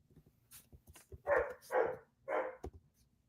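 A dog barks three times in quick succession, fairly close and alone, with a few faint yips and soft noises before the barks.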